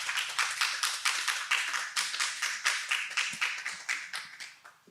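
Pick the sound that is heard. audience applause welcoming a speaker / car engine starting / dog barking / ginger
audience applause welcoming a speaker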